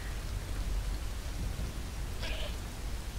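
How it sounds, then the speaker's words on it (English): Steady rain pours down with a low rumble underneath, a continuous dense hiss filling the scene, with one faint brief chirp partway through. "Out of the rain."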